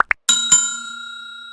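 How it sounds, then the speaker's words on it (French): A bright bell-like ding rings out twice in quick succession after two short clicks, the second strike ringing on with a clear, slowly fading tone, loud and close. "la petite cloche."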